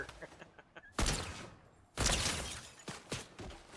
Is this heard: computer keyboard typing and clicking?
no